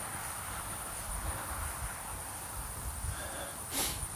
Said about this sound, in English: All these fields are full of crickets.